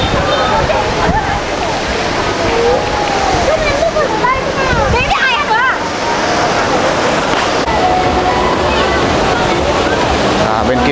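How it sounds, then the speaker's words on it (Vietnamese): The Thác Mây waterfall roars loudly and continuously up close. A voice talks over it in the middle of the clip. "Bây giờ thì mình đi vào trên thác xem nhé các bạn nhé."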